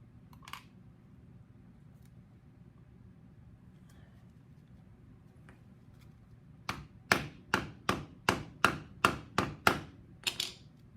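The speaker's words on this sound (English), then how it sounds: "This is what the silicone looks like after being hammered." A piece of silicon is hammered in a school lab, a series of about ten sharp, evenly spaced close knocks after a quiet stretch with one earlier tap.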